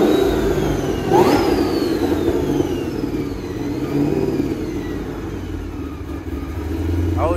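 Ford GT500 with a new X-pipe exhaust, revving in rising and falling sweeps with a throaty rumble, fairly close, the engine note climbing and settling several times.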